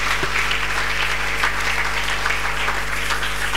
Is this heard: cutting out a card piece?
no